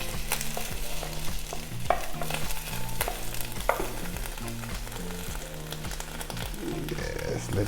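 Scrambled eggs with peas and carrots frying for homemade shrimp fried rice, a steady close sizzle with repeated rhythmic spatula scrapes and a couple of sharper clacks against the pan, over a low humming background.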